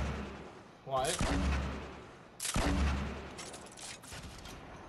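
Gunfire in the Fortnite video game: two loud bursts of shots, each trailing into a long echoing rumble, with a voice briefly speaking between them.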